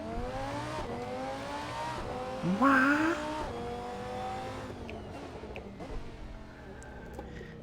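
A SuperTrofeo race car in a sim racing game at Spa-Francorchamps revs and accelerates through several gear changes, engine pitch climbing and dropping, with a brief tire squeal and a short shout over it.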